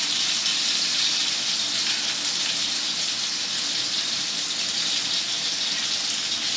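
Water runs from a kitchen tap in a steady, hissing stream, close and unbroken from start to finish with no voices.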